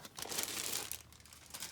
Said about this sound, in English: I have everything in plastic bags to keep out debris.